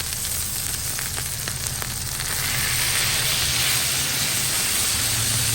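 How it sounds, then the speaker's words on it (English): Burgers sizzle loudly on a Blackstone griddle, a dense continuous frying hiss that holds steady and swells slightly louder in the second half, with no voices. "And don't you just love the sound of sizzle?"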